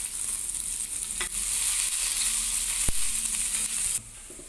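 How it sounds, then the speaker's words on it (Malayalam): Finely chopped shallots fry with cumin and dried red chillies in a pan for a Kerala chembu curry. A steady bright sizzle runs under soft stirring scrapes, with one sharp tap of the spoon midway and the sizzle quieting at the end. "ചെറിയുള്ളി വളരെ ചെറുതായിട്ട് അരിഞ്ഞ് ഇടുക."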